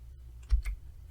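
A single keypress on a computer keyboard gives one soft, close click followed by a faint second tap, short and quiet in a still room.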